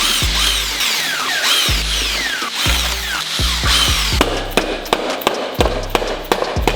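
A power tool rattles out 12mm bolts on the upper intake manifold of a Subaru WRX STI engine during teardown, in repeated short bursts, each whirring up and stopping, with sharp clicks and clanks between them.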